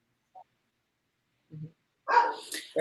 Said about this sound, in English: My dog is still barking in the background, so I apologize as I come back into this conversation here.